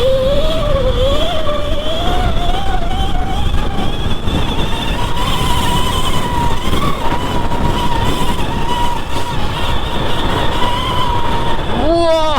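A Sur-Ron Light Bee electric motorbike fitted with a converted motor and chain kit whines steadily at a high pitch, rising and falling with speed while riding outdoors, with wind and road rumble underneath.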